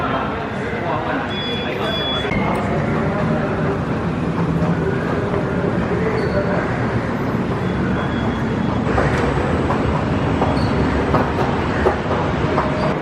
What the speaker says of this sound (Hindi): यहाँ से ही KTM कम्यूटर आपको मिल जाती है